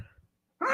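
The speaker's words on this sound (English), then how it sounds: "I was hoping I was not going to sneeze, but voila. I'm not a chic sneezer" A single sudden, loud sneeze bursts out after a moment of near silence.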